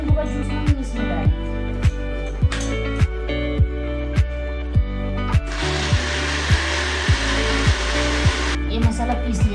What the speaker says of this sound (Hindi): ये मसाला पीस लिया हमने